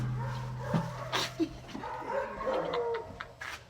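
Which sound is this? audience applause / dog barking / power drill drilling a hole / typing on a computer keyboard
dog barking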